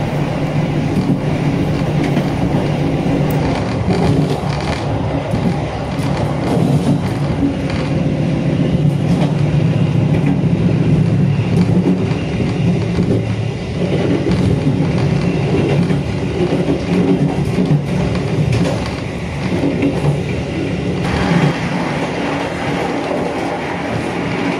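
The Argo Bromo Anggrek passenger train runs along the rails with a steady loud rumble and wheel clatter heard from on board, continuous throughout with no voices.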